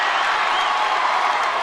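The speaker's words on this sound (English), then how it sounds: "Westside's crowd is fired up after that one." Loud, dense roar of a volleyball crowd cheering and clapping at a high school state tournament quarterfinal after a kill, a continuous wash of voices.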